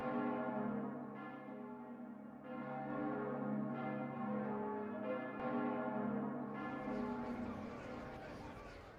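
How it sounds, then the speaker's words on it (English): A ringing bell of pilgrimage from the video game Fate/Grand Order sounds as a loud, resonant bell struck about five times at a steady pace, each strike ringing over a sustained drone. "What an ominous sound. Is that one of the bells of pilgrimage?"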